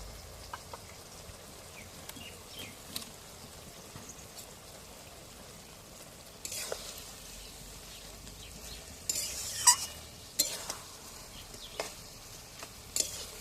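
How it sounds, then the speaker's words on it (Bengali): Spices stirred and fried with elephant foot yam stalks in a pan give a faint, steady sizzle, broken by louder scraping bursts of the spoon toward the end. "মশলাটা দিয়ে একটু ভালো করে নাড়াচাড়া করে শুকনো শুকনো করে নেব।"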